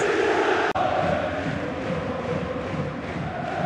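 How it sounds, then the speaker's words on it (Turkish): Stadium crowd roaring for Beşiktaş during a Beşiktaş–Barcelona football match, a dense, sustained chant-like roar that stays loud and even, with a brief sharp break early on. "Tribünlerde muhteşem bir tezahürat Beşiktaş'a"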